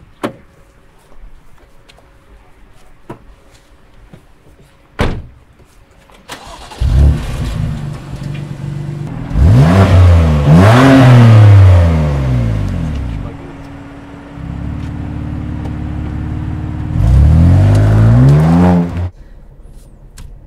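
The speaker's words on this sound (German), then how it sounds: "Hier checken wir die Maßnahmen, dass alles passt mit unserem neuen Auspuff auf den M2 Competition" A BMW M2 Competition fitted with a new Remus exhaust starts up at an outdoor test area after door and cabin clicks, then settles into idle and gives two loud revving blips, close by.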